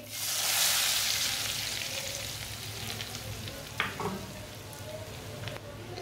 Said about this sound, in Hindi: जो हमने तड़का तैयार किया वो डाल लेंगे।